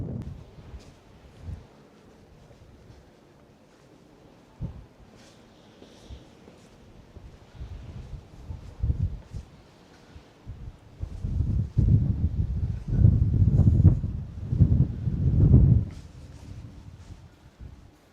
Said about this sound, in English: whenever the wind is strong like today